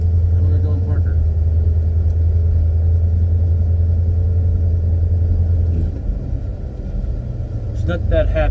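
A 1968 Ford Galaxie 500 engine runs with a deep, steady low rumble while being parked, dropping in tone near the end as it slows, with a brief burst of talk at the close.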